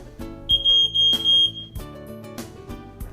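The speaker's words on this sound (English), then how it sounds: "There is a smoke detector in every one of our residences." A smoke alarm beeps in a quick run of shrill electronic chirps over soft background music.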